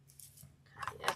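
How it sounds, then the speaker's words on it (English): Scissors snip off the excess of thick craft wire for a snowman decoration, with two quick, crisp cuts near the end after a quiet, faintly rustling start. "cut the excess off."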